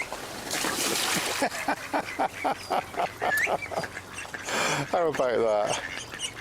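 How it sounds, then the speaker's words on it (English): A mother duck flying in with a couple of drakes, a series of rhythmic nasal quacks and calls close by, ending in a louder burst of quacking, with someone talking over them. "this is mum duck coming back with a couple of drakes"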